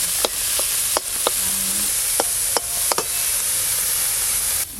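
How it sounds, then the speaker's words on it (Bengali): Shrimp seasoned with salt and turmeric sizzle steadily in hot mustard oil, with sharp clicks of a spatula stirring them every second or so, ending in a brief louder rustle. "চিংড়ি মাছগুলো ভালো করে ভেজে নেব।"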